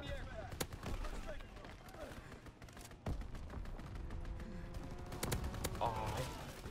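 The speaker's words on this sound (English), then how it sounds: "Anti-aircraft burst has commenced." Anti-aircraft gunfire from a military video game rattles in dense bursts and sharp cracks, with talk and game voice lines running over the continuous battle noise.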